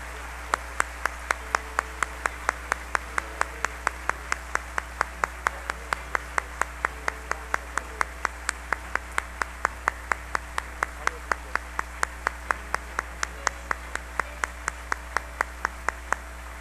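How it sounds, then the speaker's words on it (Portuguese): A church congregation at a Sunday service claps along in a steady, even rhythm, many hands beating together at a regular pace throughout, over a low constant hum. "Você pode aplaudir Jesus bem forte e bonito."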